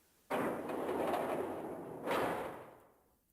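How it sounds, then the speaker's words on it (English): Numbered door in Zero Escape: 999 slams shut with a heavy rushing thud, followed by a second swelling whoosh of impact that fades out, loud and close with no voices. "He heard the sound of the numbered door slam shut behind him."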